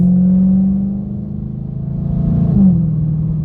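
A 2013 Dodge Charger R/T with a 5.7L Hemi V8 pulls away, its deep engine rumble easing off and then building again into a louder rising rev, heard close from inside the car with no talking.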